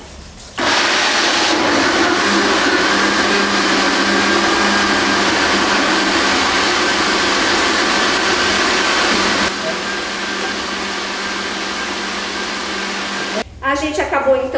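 A blender chopping carrots gives a loud, steady motorized whir that runs continuously for several seconds, dropping slightly in pitch partway through, then cuts off as a voice begins speaking.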